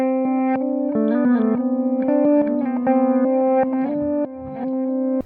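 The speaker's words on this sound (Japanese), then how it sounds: "で、リバースディレイ。" Guitar played through a reverse delay effect on a Zoom G1 X FOUR multi-effects processor, a quick run of notes and chords with backwards-swelling repeats that smear and overlap, ending in a sustained tone.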